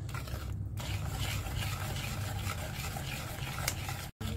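Oil being whisked into beaten eggs and sugar in a bowl for a no-oven strawberry cake, a steady scraping swish of the whisk against the bowl that runs continuously and close, with one brief dropout near the end.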